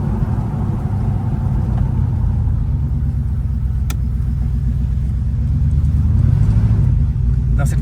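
A donk car's V8 engine idles close by in Montreal, a loud, deep, steady rumble with a slight rise in intensity near the end and no voices over it.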